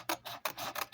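Scissors cut green card paper for a tuxedo fold card, a few short rasping snips in an uneven rhythm, quiet and close.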